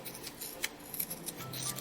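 Quiet scissor snips trim the fabric seam allowance at a zipper and side seam, several short crisp clips spaced irregularly, close by with no voices.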